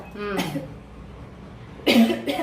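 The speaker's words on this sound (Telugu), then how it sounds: "ఇది దగ్గు వస్తుంది ఎండుమిరపకాయలు కదా" Someone coughs from the sharp fumes of dried red chillies frying in a home kitchen; two short bursts of harsh coughing, one early and one near the end, are heard close by with some voiced sound between.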